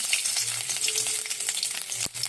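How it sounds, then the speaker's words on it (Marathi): Ginger and garlic sauté in hot oil in a pan for a spicy cauliflower curry, giving a steady, close, dense sizzle that runs unbroken for the whole stretch with no talking. "तेल गरम झालं की त्यात आपल्याला आलं आणि लसूण घालून परतून घ्यायचं"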